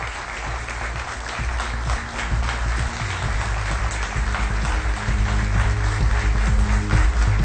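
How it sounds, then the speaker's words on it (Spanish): A ceremonial hall audience gives the President of Ecuador a sustained round of dense applause, steady and loud throughout, with low rumbling tones underneath. "Un fuerte aplauso por tan alto reconocimiento a nuestro presidente."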